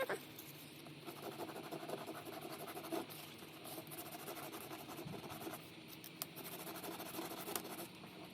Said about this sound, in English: I want to sand it a tiny bit,